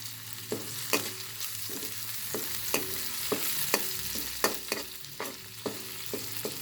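Dried shrimp sizzle in a pan for sautéed bottle gourd, a constant soft frying hiss broken by regular sharp scrapes and taps of a spatula stirring, close by, without talk.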